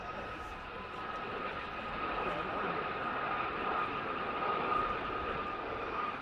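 Westland Aerospatiale Gazelle helicopter flying an airshow display at Shuttleworth: a steady, droning turbine whine with a strong tonal hum holds throughout and swells slightly toward the middle, loud and continuous.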